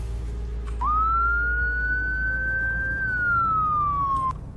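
A single slow wail from a vehicle siren in the Roblox Greenville game rises, holds a long steady tone, then sweeps down, loud and clear over a low engine hum.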